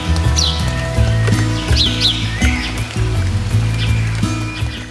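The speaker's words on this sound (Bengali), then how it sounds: "তার সাথে পাখির ডাক। এখানে কিন্তু প্রচুর পাখি রয়েছে" Birds chirp and call from trees in hilly monsoon-season Kalimpong, North Bengal: a few quick bright chirps rise over a loud, steady low hum with repeating tonal notes, the calls sitting fairly near but partly masked.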